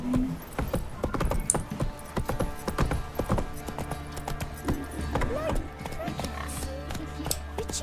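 Roach the horse gallops in The Witcher 3, with rapid close hoof clip-clops and tack jingling over faint ground rumble, while voices speak over the hoofbeats.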